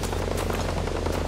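Helicopter in the Ghost Recon Breakpoint video game: loud, steady rotor thumping and engine drone that sounds close and runs throughout, with no voices.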